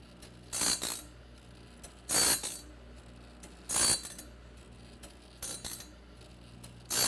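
TimberKing Talon saw blade sharpener grinding teeth in short repeated bursts of harsh grinding, roughly one every one and a half seconds, with a low mechanical hum between passes.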